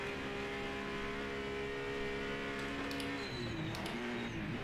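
Race cars in the Project Motor Racing video game, GT Icons on a road course, engines droning and shifting pitch steadily near the pit lane, with a brief higher whine as one car passes.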